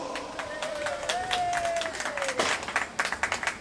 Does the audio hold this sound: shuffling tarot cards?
no